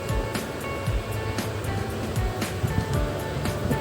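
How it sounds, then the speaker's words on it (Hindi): Cut potatoes frying in a pan of hot oil for methi aloo sabzi, a continuous broadband sizzle with small crackles and pops throughout, steady and close. "और अब आलू जो काट कर रखे थे इनको फ्राई कर लेंगे।"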